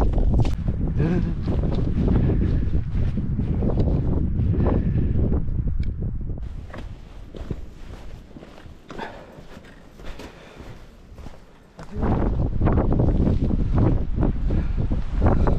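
Cold wind gusts across Watendlath Tarn in the Lake District, a loud, rough rushing that buffets the microphone, eases for several seconds midway, then surges back at full strength.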